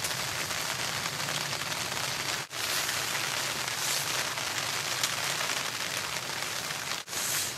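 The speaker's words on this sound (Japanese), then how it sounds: "シェルターの中まで雨水がだいぶ吹き込んでしまいました。" Heavy rain pours down on a camping shelter at Sugi no Furusato Park during a thunderstorm. It makes a dense, steady hiss that stays loud and unbroken, with only two brief dips, and no one speaks.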